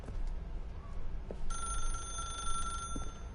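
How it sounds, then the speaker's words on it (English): A telephone ringing in a video game, a bright electronic trill sounding once for about a second and a half over a low background hum, with no voices. "Should I pick up the phone?"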